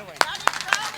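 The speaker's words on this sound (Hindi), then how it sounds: "ताली बजा दो" Three sharp, evenly spaced claps from an audience ring out close and loud at a Balaji bhajan jagran.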